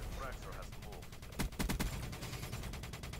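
Shooter video game gunfire: a short cluster of sharp, loud shots around the middle over a quieter background, with a voice talking faintly nearby.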